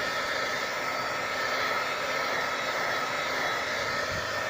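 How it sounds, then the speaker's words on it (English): A heat gun on its lowest setting blows steadily while drying a soft vinyl hatch cover on a kayak, giving a constant, even whooshing rush at close range with no voices. "I'm using a heat gun on the lowest setting"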